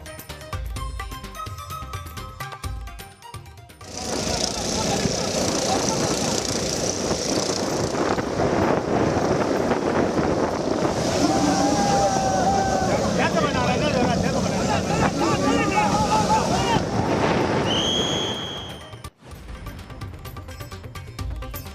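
Fiber fishing boats race at Chennai's Marina beach in a competition, their outboard motors making a loud, sustained roar with wind and surf noise for about fifteen seconds, bracketed by quieter stretches.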